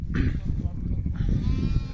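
Sheep bleat loudly nearby, two wavering calls in quick succession over a busy, low rumbling background.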